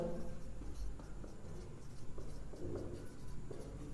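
Chalk or marker writing on a board during a history lecture, steady scratchy strokes and taps close by, fairly quiet and continuous.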